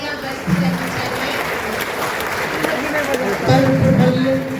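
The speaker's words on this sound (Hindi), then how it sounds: "जोरदार तालियां बजती रहनी चाहिए।" Audience applause greets arriving guests at a school award ceremony for matric and intermediate exam toppers, a steady wash of clapping from a hall crowd with voices and murmurs mixed in throughout.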